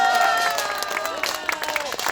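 An audience at a political speech applauds, a dense patter of many hands mixed with crowd noise and voices rising over it.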